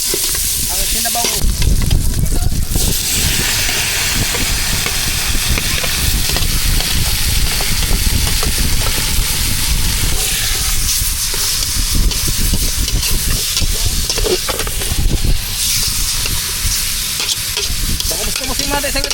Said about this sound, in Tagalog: gisa na tayo ng Ricado para magbango-bango ang sinabaw